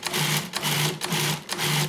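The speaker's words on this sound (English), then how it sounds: "My food processor has a broken lid, so I'm gonna have to be extra careful. We're gonna start by pulsing these ingredients." A food processor with a broken lid pulses pesto ingredients in short bursts: four quick, close motor whirs of about half a second each, separated by brief gaps.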